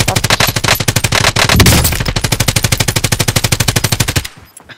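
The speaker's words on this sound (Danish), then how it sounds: "Vanvittig MP7, den skyder så langt jo." MP7 submachine gun fire in Call of Duty: Warzone: one loud, rapid, evenly spaced burst of close shots lasts about four seconds before stopping abruptly, with no talking over it.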